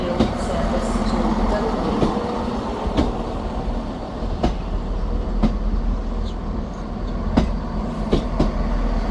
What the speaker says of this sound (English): Arriving in now is the 11:54 Scotrail service terminating here at Edinburgh Waverley from Perth.